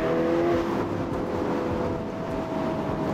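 Ferrari Portofino convertible, a 600-horsepower car, driving with its engine note a steady, close, continuous drone and a brief higher tonal whine near the start, alone without talk.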